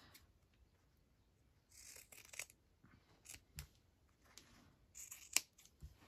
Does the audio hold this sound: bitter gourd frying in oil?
no